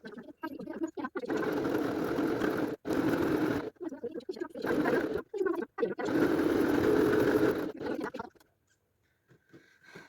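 A Singer domestic sewing machine stitches children's pyjama trousers in several loud, close whirring bursts separated by short pauses, then falls quiet at the end.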